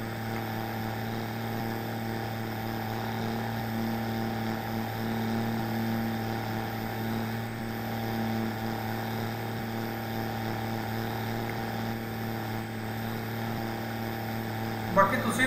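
An Arjun 605 4x4 tractor engine in Farming Simulator 22, out in a wheat harvesting session, hums in a steady, even drone at moderate loudness, with a brief bump right at the end.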